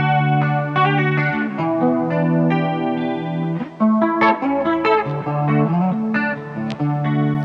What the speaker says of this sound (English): There's a little bit of chorus there, yeah, and a little bit of delay.